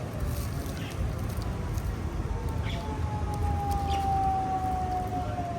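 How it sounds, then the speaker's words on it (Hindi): A siren wails faintly in the distance at a roadside tea stop on the way to Pakistan, a slow rising tone over steady traffic and outdoor rumble. "ये कैसा सायरन है?"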